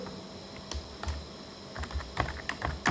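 Keys tapping on a computer keyboard while typing a project document in MS Word, coming in irregular bursts of clicks with brief pauses, close and fairly quiet, with no speech.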